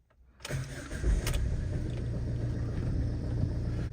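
A Ford Tourneo Connect engine cranks briefly and catches, then settles into a smooth, steady idle close by with a low rumble, and no voices are heard.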